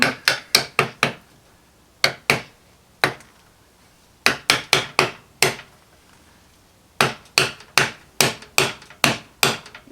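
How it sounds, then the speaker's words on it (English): Hammer tapping greased hinge pins into a Jeep door hinge during a DIY repair: sharp metallic strikes, loud and close, landing in quick bursts of three to six blows with short pauses between groups. "I just tap them in with the hammer."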